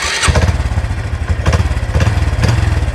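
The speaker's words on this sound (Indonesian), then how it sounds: "Idle-nya seperti apa kita akan coba tes teman-teman." A Suzuki Satria Suprax 125 with a manual clutch idles close by, its engine putting out a steady, rapid low chug that holds even throughout with no voices over it.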